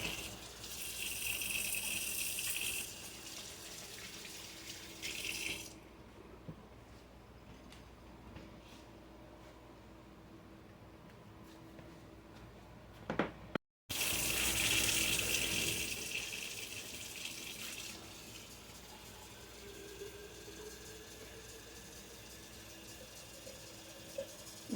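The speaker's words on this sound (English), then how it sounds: "And wash my hands." Tap water runs into a kitchen sink while hands are washed after breaking meat into a stock pot for oxtail sancocho, a steady gushing hiss starting and stopping in bursts, with no talking.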